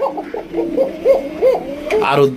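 Pigeons coo and call repeatedly in a series of soft, rounded notes close by, with a sharper burst near the end, at a pigeon seller's stall.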